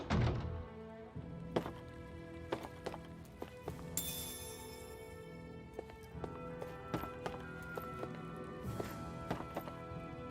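Horse hooves thud and clip-clop at a steady riding pace in a video game, with scattered sharper knocks over a continuous game backdrop, fairly close and moderately loud.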